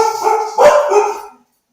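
A single loud, close dog bark-howl rings out, then trails off into silence.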